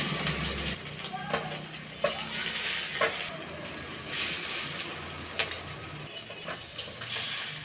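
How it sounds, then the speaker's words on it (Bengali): Shrimp fritters frying in hot oil in a home kitchen: a steady soft sizzle with occasional crackles and clinks of a utensil, low in level and continuous throughout. "আবার আমি তেলের মধ্যে বড়াগুলো দিয়ে দেবো।"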